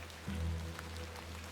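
Steady rainfall patters in The Excavation of Hob's Barrow, a soft continuous hiss of drops over a low droning hum that lifts briefly partway through.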